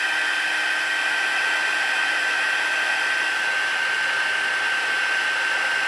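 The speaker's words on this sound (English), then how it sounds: "I'm going to emboss again, so it's going to get loud." Heat embossing tool blowing hot air, a loud, steady, close whooshing hiss with a faint whine that runs unbroken throughout.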